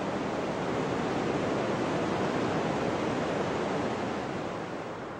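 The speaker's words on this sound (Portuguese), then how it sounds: "este enorme volume de água mergulha sobre as cataratas do Niágara" Niagara Falls thunders in a steady, dense roar of plunging water, loud and close, with no talk over it.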